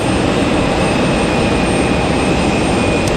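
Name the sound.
Air Canada airliner jet engine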